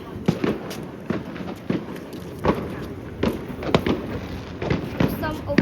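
Fireworks bursting outdoors at night, with sharp booms and crackles spaced every second or so amid crowd noise and voices nearby.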